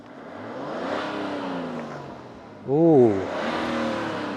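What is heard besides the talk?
BMW 640d diesel straight-six engine revving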